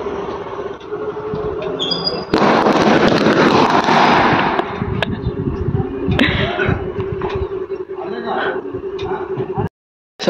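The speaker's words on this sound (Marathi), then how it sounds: "आता गावामध्ये फटाके वाजवण्यात आले." Firecrackers go off in a village on a Ganapati holiday evening: a loud, crackling burst followed by scattered sharp pops, with people talking throughout.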